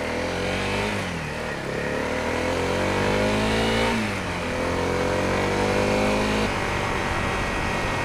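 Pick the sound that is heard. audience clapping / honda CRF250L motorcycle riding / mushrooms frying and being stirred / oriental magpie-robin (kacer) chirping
honda CRF250L motorcycle riding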